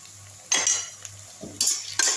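Onion with ginger garlic paste sautéing in a pan for a mutton and potato chukka fry, with a few loud bursts of stirring and scraping over a low sizzle, close and without talk.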